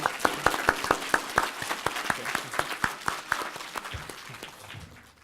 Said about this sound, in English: if we could please give a warm round of applause for Dr.